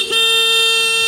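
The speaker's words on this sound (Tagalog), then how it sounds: "Check natin ang busina." A loud, steady electric horn on a Suzuki Raider 150 motorcycle blares continuously after a brief moment of quiet, a bright buzzy tone held without a break.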